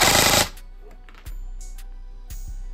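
A short, loud burst of rapid full-auto fire from an airsoft gun on a small, freshly charged battery ends abruptly, followed by near-quiet broken only by a few faint clicks and knocks.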